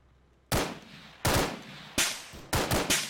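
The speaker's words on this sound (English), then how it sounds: "someone else is shooting at me" Four loud, close gunshot bursts ring out in the video game Arma 3, each a sharp crack with a short echoing tail, spaced irregularly over a quiet background.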